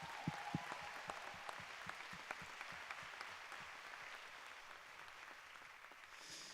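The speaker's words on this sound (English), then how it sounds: "Give everybody a round of applause" Audience applause at an awards ceremony for student artists, the 26th Annual Betty Lynn Buckley Awards, a steady wash of many hands clapping in a large hall, moderately distant and even throughout, with a few sharper claps near the start.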